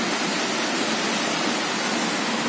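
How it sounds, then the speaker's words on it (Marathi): Heavy rain pours down in a dense, constant hiss that fills the whole stretch, loud and unbroken, with no speech. "एकदम मोठा असा पाऊस आलाय."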